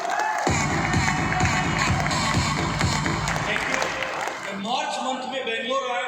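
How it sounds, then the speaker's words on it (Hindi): Crowd applause and cheering at a gathering, dense clapping mixed with shouts and voices, loud and sustained, thinning toward the end as a voice emerges. "मैं चाहूँगा सर के लिए जोरदार तालियां"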